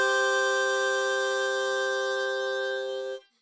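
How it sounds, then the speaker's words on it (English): Harmonica 3-4 blow chord, a single steady reedy tone held for about three seconds at even loudness before stopping cleanly, alone and close. "We're just going to slide 1 hole to the left again and play a 3-4 blow"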